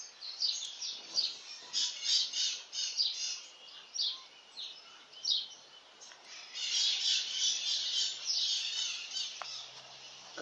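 Small birds chirp and twitter in repeated bursts while feeding near jabuticaba trees in rural Minas Gerais, a steady, moderately loud chorus that carries through the whole stretch with no talking.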